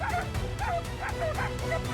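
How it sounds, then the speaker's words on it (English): Hunting dogs on a wild boar hunt give a rapid run of excited yips, barks and whimpering whines, close and loud, repeating in quick bursts for the whole moment. "Once they've locked onto the target, they bark loudly to alert the hunter"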